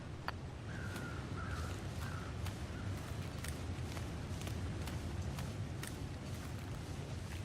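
Crows caw faintly in the distance in The Long Dark, a few scattered calls over a steady rush of wind and soft footsteps in the snowy wilderness.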